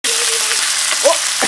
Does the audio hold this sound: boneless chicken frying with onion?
yes